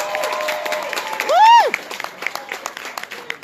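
Crowd at an 8th Ward re-election rally at a Chicago medical training center claps and cheers, with a loud whoop rising in the middle and dense, close clapping continuing after it.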